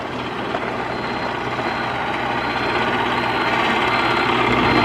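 A mini excavator engine runs nearby during driveway trenching, a loud, steady diesel-like drone and rumble with a slight rise in level toward the end and no talk.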